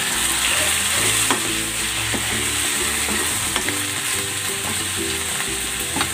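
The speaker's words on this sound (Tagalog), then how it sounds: "Gisa na rin natin tong sibuyas. Balik na natin dito yung chicken." Onion and chicken sautéing in a pan for chicken afritada, a steady loud sizzle of frying with occasional stirring scrapes and clinks, no talk.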